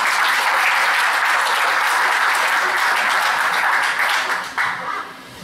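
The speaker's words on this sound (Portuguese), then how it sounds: "vamos receber com carinho, maneira salva de palmas" An audience applauds to welcome a state deputy speaking at a diabetes talk held at a church. The clapping is loud and dense, sustained for several seconds, then tapers off quickly near the end.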